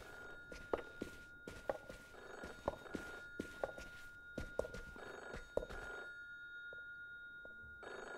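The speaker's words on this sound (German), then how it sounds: "Das Telefon." A telephone rings in The Berlin Apartment, a video game set in a 1933 Berlin apartment: a steady run of repeated bell bursts, close and fairly loud, that stops partway through, followed by a few soft thuds.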